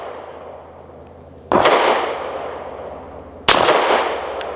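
Two loud, close gunshots from a Hammerli Forge H1 .22 semi-automatic rifle, each a sharp crack with a ringing decay, spaced about two seconds apart with no talk.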